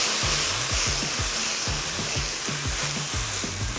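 Beef stir-fried with red and yellow paprika and Japanese sansho pepper sizzles steadily in a hot pan, a close, continuous frying hiss with a rhythmic scraping stir running underneath, no voices.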